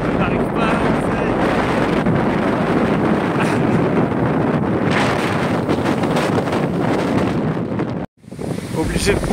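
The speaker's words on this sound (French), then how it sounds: "tellement le vent est fort" Strong wind buffeting the microphone on a bicycle tour in a loud, continuous roar that cuts out abruptly near the end before resuming.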